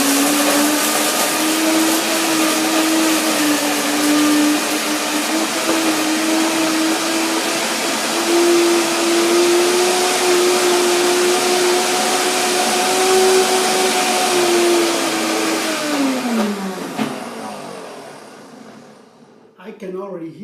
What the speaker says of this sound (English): The blender begins to scream a little bit.